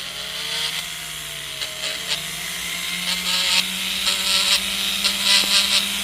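A rotary tool smooths the inside of a cut ring, a steady whirring grind with a faint motor whine and repeated brighter rasping surges as the bit presses against the metal, close and continuous.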